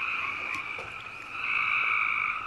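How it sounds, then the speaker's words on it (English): Frogs croak in a dense, continuous chorus outdoors at an abandoned elementary school, a loud trilling drone that holds steady throughout with no voices. "listen over top of the frogs croaking"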